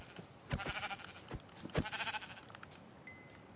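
Sheep in the Minecraft video game bleat in a couple of wavering calls, moderately loud and close, without talking.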